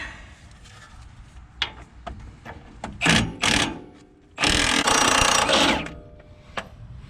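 An impact wrench rattles in short bursts on the strut bolts of a 2016 RAM 1500 4x4, fitted with 24 mm and 21 mm sockets, loud and close, with quieter clicks and shop handling between the bursts.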